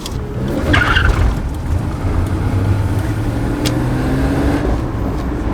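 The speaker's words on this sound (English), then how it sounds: "She needs more gas than that to do skids." A car fitted with a mini spool revving and trying to skid, engine roar with brief tire squeal, loud and close, continuous throughout with no talk.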